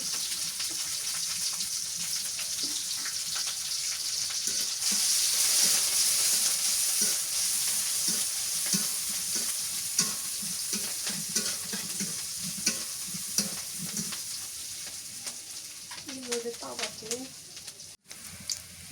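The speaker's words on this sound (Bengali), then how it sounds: "রসুন মরিচ ভাজা হয়ে গেছে এবার শাকগুলো দিয়ে দিই" Garlic and green chillies sizzle in hot oil in a pan, close and steady, with repeated scraping stirs throughout. A voice briefly breaks in near the end.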